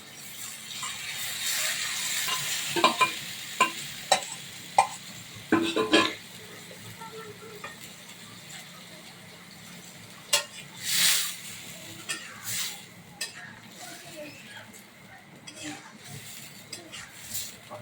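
Quail eggs go into a thick bhuna curry in a pan and are stirred, bringing a run of sharp metal clinks and scrapes against the pot followed by quieter, scattered knocks, with a person talking.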